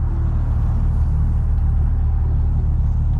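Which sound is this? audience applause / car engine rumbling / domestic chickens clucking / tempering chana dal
car engine rumbling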